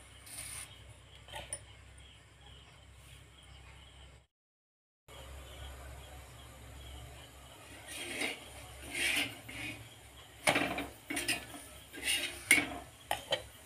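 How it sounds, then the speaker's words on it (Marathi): A paratha turned over on a hot pan, giving a few light metallic scrapes and clinks of a spatula against the pan, with soft cooking noise in between and a brief gap of silence. "मी पलटवून घेते दुसऱ्या बाजूने"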